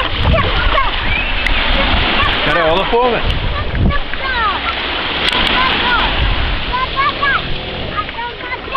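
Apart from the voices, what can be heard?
sea waves splashing at the beach in Varna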